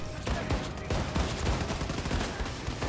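Enemy gunfire in the shooter game Wolfenstein II: The New Colossus, a dense, steady barrage of rapid shots and bursts that runs continuously at high level for the whole stretch, with no talk.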